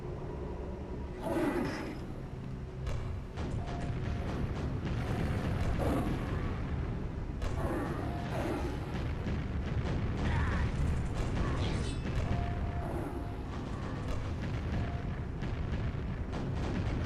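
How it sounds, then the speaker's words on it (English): Rockets exploding during play in a video game, in a level called the Great Bay: a dense, continuous barrage of booming blasts and mechanical rumble, loud and steady throughout with no speech. "So many rockets happening in here."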